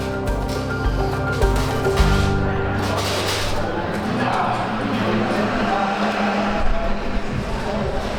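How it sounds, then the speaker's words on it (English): A race car engine roars loudly and steadily during a 25-hour endurance race, its revs rising and falling as it runs nearby. "Car sounds really good"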